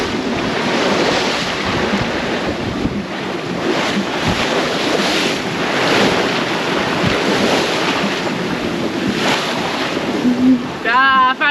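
Steady wash of surf and rushing wind around a sailboat cruising near 5.5 knots off Fiji, loud and close with constant wind buffeting on the microphone, water hissing along the hull throughout.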